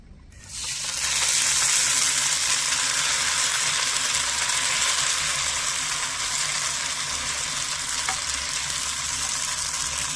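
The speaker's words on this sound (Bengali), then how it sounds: "এবারে ঘিয়ের সাথে ভালো করে মিশিয়ে একটু ভেজে নেব" Soaked sabudana hits hot ghee in a pan and bursts into a loud, steady, close sizzle of frying that holds almost unchanged for about ten seconds, with no talking.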